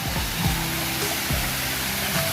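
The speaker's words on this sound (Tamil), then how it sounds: "செம்ம ஃபால்ஸு, சூப்பராக இருக்குது." Waterfall at Yercaud, a steady broadband rush of falling water heard close by, constant and full with no pauses, faint low tones beneath.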